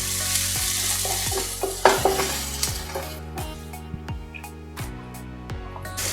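Tomatoes sizzle and crackle steadily in a hot pan, with a few scraping stirs and a louder clatter partway through.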